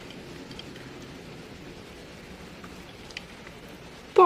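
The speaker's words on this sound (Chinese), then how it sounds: "没有听到外面的雨声吗？" Heavy rain falling outside during a downpour, a faint, even hiss of drops heard from indoors, with a brief louder knock at the very end.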